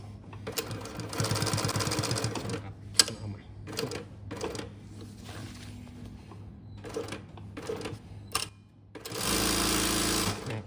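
A BAOYU GT-875 twin-needle, large-head sewing machine stitching in loud, close bursts, with short runs broken by pauses and clicks as the needles lift at corners, ending in one longer run.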